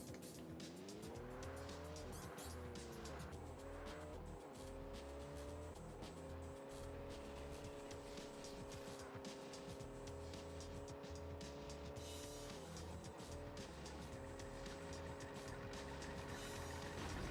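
A racing car in a Sega Dreamcast video game: a droning engine rises and shifts in pitch while tires squeal and skid through corners, loud and continuous with no talking.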